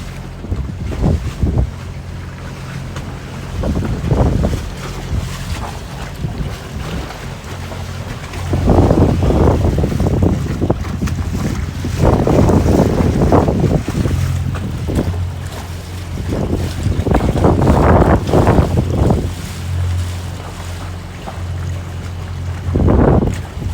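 Motor boat cruising near Andratx, Mallorca, its steady engine drone under heavy wind buffeting on the microphone, with swells of water and hull noise rising and falling throughout.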